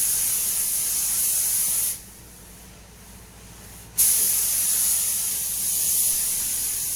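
An aerosol coat is sprayed onto rusty car wheel arches in two bursts, a bright, close hiss that stops for about two seconds and then resumes with a sharp start.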